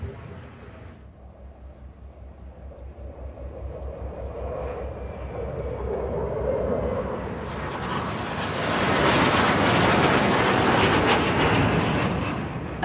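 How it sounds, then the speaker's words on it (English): American F-18 Hornet jets fly past the warship USS George Bush in a salute, a roaring jet engine rush that swells steadily from a distant rumble to a loud, broad, close roar before holding near its peak. "American F-18 Hornets."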